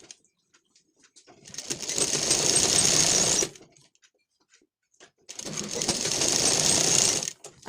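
Electric sewing machine stitching the lining of a blouse in two steady whirring bursts, each about two seconds long and separated by a short quiet pause, close and moderately loud.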